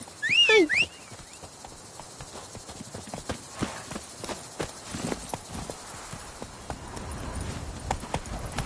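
Roach, the horse in the video game The Witcher 3: Blood and Wine, trots with a steady, close clip-clop of hooves. A brief whinny-like cry comes near the start, and the ambience is faint.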